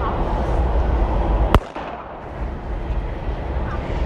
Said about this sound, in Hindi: कौन है बम फोड़े जा रहा है यहाँ पे